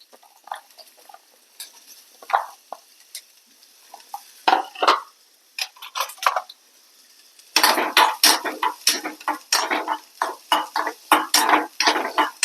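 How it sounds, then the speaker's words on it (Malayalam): Soya chunks being sautéed in coconut oil in a pan, with repeated scraping and stirring clatter of a spoon against the pan, loud close bursts that grow denser and more continuous in the second half, with no talking. "ഇപ്പൊ ഇതിലേക്ക് ഇട്ടത് ഒന്ന് നന്നായിട്ടൊന്ന് വഴറ്റിയെടുക്കാം"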